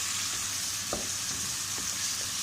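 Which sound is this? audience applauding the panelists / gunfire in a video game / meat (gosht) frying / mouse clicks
meat (gosht) frying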